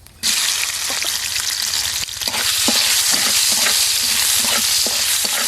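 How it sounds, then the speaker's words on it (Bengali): Chopped tiger prawns fry in oil with a little black cumin, a loud sizzle bursting in as they hit the pan, followed by rhythmic scraping stirs over a continuous hiss. "চিংড়ি মাছটা দিয়ে দিলাম,"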